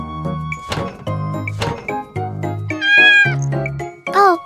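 A cat meows repeatedly at close range, a series of short, loud, rising and falling cries with brief pauses between them, alone without talk.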